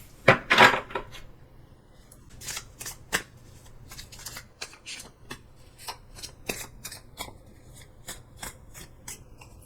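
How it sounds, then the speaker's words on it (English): Tarot cards being shuffled in quick riffling bursts, loud at first and then a steady run of crisp slaps and flutters, with no talking. "While I was shuffling"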